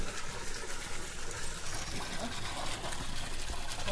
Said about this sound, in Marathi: या गोमुखातून 24 तास 12 महिने पाणी पडत असते.